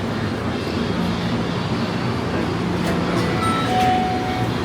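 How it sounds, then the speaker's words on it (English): An airport train to baggage claim rumbles steadily along its track with faint clinks and a brief high tone, a continuous interior ride sound with no speech. "These niggas got trains to take you to baggage claim?"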